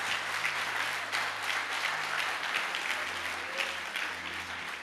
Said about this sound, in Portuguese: Vocês nem aplaudem.